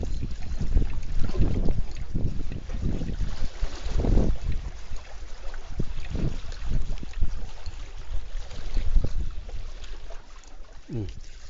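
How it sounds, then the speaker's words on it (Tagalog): Strong wind buffets a small fishing boat at sea during sabiki rig fishing for mackerel and bigeye scad, roaring and gusting into the microphone with water sloshing beneath, while people talk intermittently. "Lumakas ang hangin."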